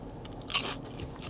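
One crisp, close bite into a sushi poke bowl with crunchy salmon skin, popping ikura, soft fish and creamy sauce, with faint chewing around it.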